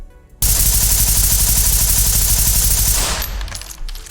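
Rifle emptying on full auto in the Ready or Not shooter game, a loud, rapid unbroken string of gunshots lasting about three seconds before cutting off, followed by faint mechanical clicks.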